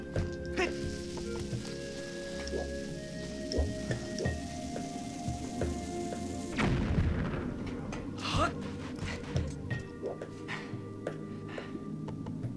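Bombs exploding in the Zelda game Skyward Sword, a loud burst near the middle set against a dense, busy background of game sounds with repeated sharp crackling hits.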